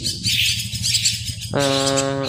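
A common myna chirps and squawks close by, then gives out a sustained buzzing, harmonic call.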